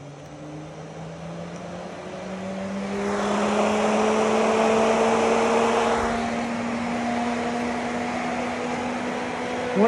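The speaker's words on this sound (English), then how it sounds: "Now we're just going to crank it up. And you can hear the fan respond." An automotive radiator cooling fan on a PWM controller ramps up toward maximum speed, its steady whir and rising tonal hum swelling into a broad, loud rush of air that holds near full speed with no talk.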